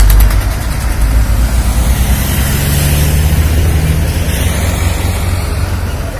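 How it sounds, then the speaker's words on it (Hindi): A convoy of farmers' tractors, around 300 of them, driving along the KMP expressway, producing a loud, dense, continuous engine rumble and drone with no talk. "गांव मदनहेड़ी का किसान, ये देखिए, पूरे लाव लश्कर के साथ है और करीब 300 ट्रैक्टरों के काफिले में"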